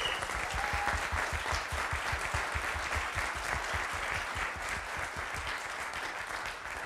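An audience claps in a steady, dense round of applause from start to finish, moderately loud with no voices standing out.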